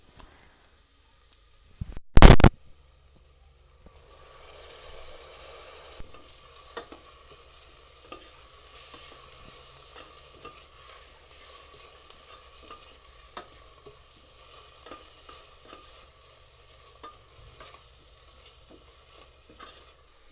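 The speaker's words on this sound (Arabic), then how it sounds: "بعد اول حاجة حطيناها البصل، خد تشويحة، بعديها فصين الثوم، عليهم الفلفل الاخضر" Onion, garlic cloves and green pepper sautéing in a pan, heard as a faint steady sizzle with scattered light stirring clicks, preceded by one sharp loud knock near the start, with no talking.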